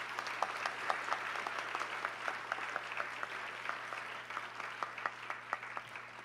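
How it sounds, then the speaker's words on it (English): Audience applause after a Kathak dance debut recital, a steady wash of many hands clapping with distinct sharp claps standing out, moderately distant and sustained without talk. "Can we have a big round of applause for all of them"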